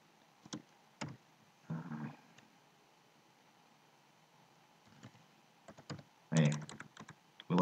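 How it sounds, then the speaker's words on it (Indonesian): Quiet bursts of computer keyboard typing while entering Python code, short clusters of key clicks separated by pauses, ending in a louder flurry of keystrokes. "Terus kita ketikkan print."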